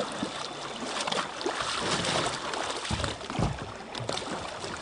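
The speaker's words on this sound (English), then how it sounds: "We're going to get out there and do some more paddling." Kayak paddles dipping and pulling through the water of an Oregon lake, soft splashes and trickles repeating irregularly, with light wind and no talk.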